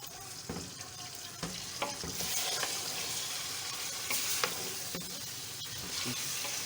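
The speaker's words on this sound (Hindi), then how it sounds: "ये देखिए तेज़ आंच में इसको मैं भूनूँगी" Chicken fries over a high flame, a dense sizzling crackle broken by sharp stirring clicks and scrapes, close and steady with no voices.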